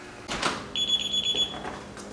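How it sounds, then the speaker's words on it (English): A single thin, high electronic beep from a home alarm system holds for about a second on entering a house, framed by soft footsteps and door handling noises in a quiet room. "you hear the beep beep, that's because that's the alarm system that you have that comes with the house"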